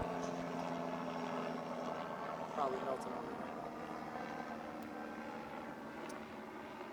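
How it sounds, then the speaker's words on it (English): A helicopter passes overhead outdoors during a college soccer interview, a steady engine and rotor drone held at a fairly even level throughout, with a voice talking over it. "Give that helicopter a second."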